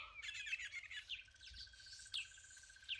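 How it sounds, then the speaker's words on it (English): Small birds chirp and tweet in a quiet outdoor setting, several faint, quick calls scattered through the moment along with a thin sustained high whistle-like note. "There's quite a few bird sounds in the immediate environment."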